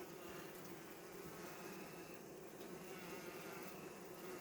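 A dense, steady buzzing of many honey bees at a hive, a continuous droning hum that stays even throughout with no voices.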